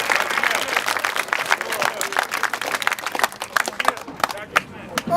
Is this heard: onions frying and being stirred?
no